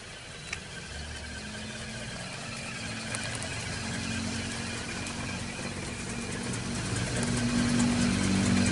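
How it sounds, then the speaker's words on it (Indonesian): A 1995 Trooper petrol engine idles steadily, a low even hum with a faint mechanical rattle, growing slightly louder toward the end. "Untuk mesin masih halus."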